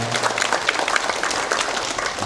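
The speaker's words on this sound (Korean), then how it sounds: "우리 박수로 하나님께 영광 돌리겠습니다." A church congregation at an Easter dawn service claps together in a dense, steady wash of applause, close and continuous with no talking.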